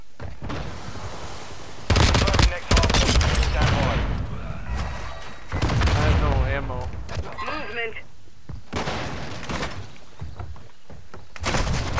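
Gunfire in Call of Duty Modern Warfare 2 comes in loud, sharp bursts and bangs, broken up by quieter gaps and game effects, while a player talks over some of it.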